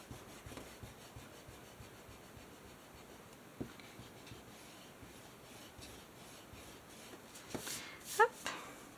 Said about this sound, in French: Hop, et je vais gommer.